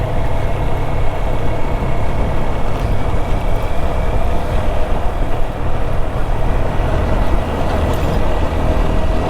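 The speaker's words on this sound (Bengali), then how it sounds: "থরথর করে নেমে যাচ্ছে বাইক ইঞ্জিনের আওয়াজ ক্যার ক্যার করে ওঠে" A loud, continuous motorbike engine drones and rattles without pause while straining uphill, a steady heavy rumble close up with no talking.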